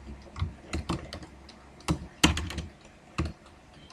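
Code being typed on a computer keyboard in bursts of sharp, close key clicks with short pauses between them, no voice.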